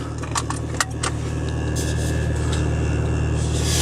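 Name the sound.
Mk4 Jetta 2.0 turbo engine running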